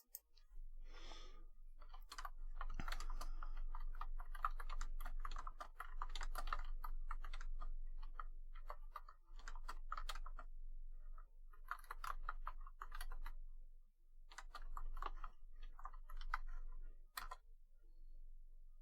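Fingers type on a computer keyboard in quick bursts of clicky keystrokes separated by short pauses, fairly close and moderately quiet, with no talking.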